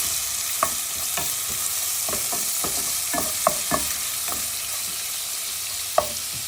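Steady frying hiss of tomato paste in a pan with scattered soft stirring scrapes and a few sharp clicks, no voices.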